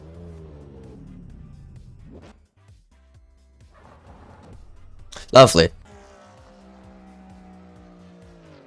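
Race car engine in a Roblox racing video game, a steady drone through most of the stretch with a brief loud squeal or impact burst midway, while a voice briefly speaks.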